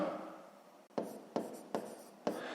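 A pen on paper writes a short math answer in five short scratchy strokes, close and quiet, each starting with a sharp onset and fading, the first one longer.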